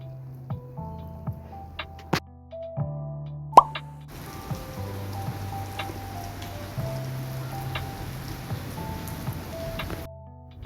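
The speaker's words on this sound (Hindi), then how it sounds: "तो बारिश हो रही थी" Rain falls in a steady patter, with scattered drops plopping close by and light, irregular ticks over a soft hiss.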